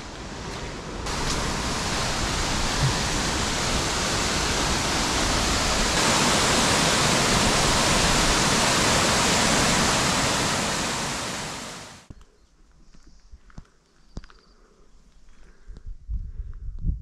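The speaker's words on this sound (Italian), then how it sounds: "Qui c'è una cascata." Rushing water from a waterfall at about 3800 metres in Ecuador roars as a steady broadband wash for about twelve seconds, then cuts away to quiet outdoor ambience with scattered faint knocks.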